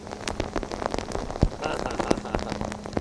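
Steady rain patters on surfaces during an outdoor yoga session, a dense, continuous hiss broken by irregular louder drops and splashes, with no voices.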